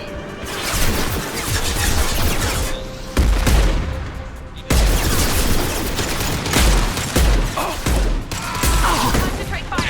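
Sustained gunfire in the video game Mass Effect 2: dense, loud bursts of shots crackle without pause, with heavy low booms breaking through at intervals during a chaotic firefight.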